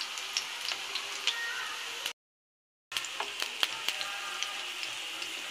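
Chicken tikka with potatoes frying in a pan over low heat, a soft steady sizzle with faint crackles and small ticks, close but quiet, cut by a brief gap of silence.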